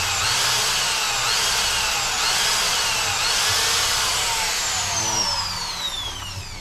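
A power drill whines loudly and continuously as it bores into material, its pitch shifting slightly before winding down at the end.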